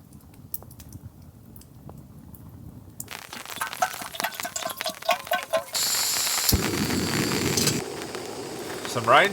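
A hardwood campfire crackles after fresh wood is added on a rainy evening camp, with irregular close snaps and pops building into a steadier hissing burn.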